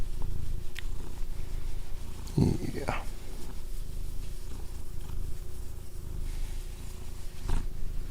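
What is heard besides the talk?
cat purring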